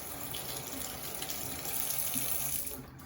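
A Delta Touch2O touch faucet runs cold water into a sink during a toddler's hand washing, a close, steady stream hissing evenly before cutting off abruptly at the end.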